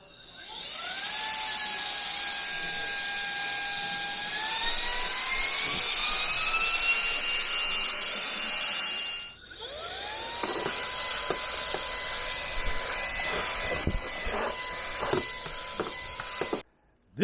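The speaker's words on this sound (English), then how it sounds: "This is a nice compact vacuum cleaner." A cordless vacuum cleaner with a 300W brushless motor whines steadily at a high pitch, its motor tone shifting as the power setting changes, then bumping and rattling as it moves.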